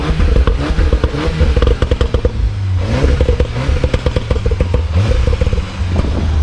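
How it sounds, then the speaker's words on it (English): A 2016 VW Golf R engine is revved hard, loud and close, with a crackling, popping exhaust and rapid bursts of rising and falling revs. "give it some revs, yo."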